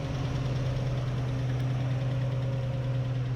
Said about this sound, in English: Alright, she's idling.